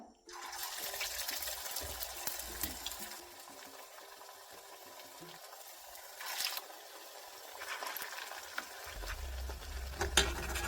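Jackfruit vada fritters frying in hot oil give a steady, quiet bubbling sizzle throughout, with a few brighter crackling surges and a low rumbling hum toward the end.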